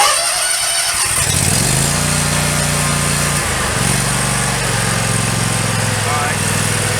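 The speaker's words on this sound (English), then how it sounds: "I'm going to crank it and then I'm going to throttle it down where you can hear what I'm doing." A Scag mower engine cranks over and catches, then runs steadily with its idle and throttle pitch shifting partway through, loud and close throughout.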